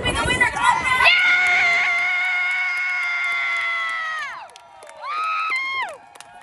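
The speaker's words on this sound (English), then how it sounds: "If you want Brenda to be the winner, clap now!" Audience on a Royal Caribbean cruise ship at sea roars with loud, sustained cheering and shouting for a contestant, then fades and rises again in a second, shorter burst.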